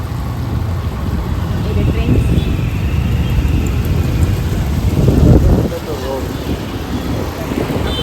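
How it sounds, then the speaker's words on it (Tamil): Heavy rain pours down in Chennai, a steady, dense hiss that fills the whole scene and swells briefly before easing, with a faint voice underneath. "நல்ல மழை பெய்யுது"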